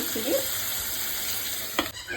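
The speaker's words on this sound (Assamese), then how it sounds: "এইখিনি মজিবলৈ লৈছোঁ। মজিছে ধুনীয়াকৈ।" Steady sizzling of onion-tomato masala frying in a pan for rajma curry, with a few scraping stirs of a utensil, close up and continuous.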